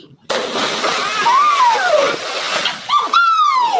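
Boys swimming churn up water in rough, splashy bursts, with loud shouting and voices running over the splashes almost throughout.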